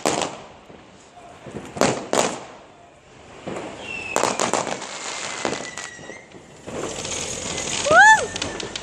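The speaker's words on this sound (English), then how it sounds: "There was some crazy explosions, wasn't there?" New Year fireworks burst in a series of sharp bangs and crackles, some near and loud, with whistling streaks rising between blasts while people cheer and talk nearby.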